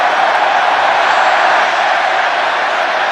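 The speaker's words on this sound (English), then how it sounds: "That is why the crowd suddenly have got very animated." Large rugby stadium crowd at an England versus Australia match, roaring loudly and steadily as a pitch invader runs onto the field, a dense continuous wall of cheering and shouting.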